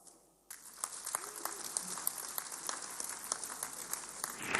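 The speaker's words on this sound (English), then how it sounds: "I'd like us to give a round of applause to our venue host" Audience applause at a public lecture honouring General Yakubu Gowon at ninety, held at the ECOWAS venue. After a brief quiet start, it swells into sustained, dense clapping from a large crowd with scattered sharper claps, steady through to the end.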